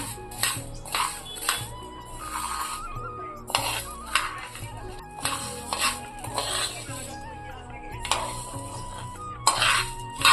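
Coriander seeds dry-roasting in a pan for homemade spice mix, heard as repeated metallic scrapes and clinks of a spatula stirring against the pan in short bursts, with a faint background hum.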